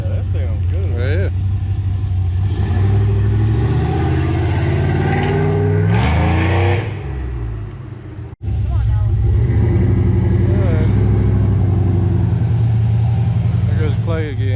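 An LS engine swapped into a 1984 Chevy C10 pickup revs loudly and steadily up close, dipping briefly near the middle before roaring back, with people talking over it.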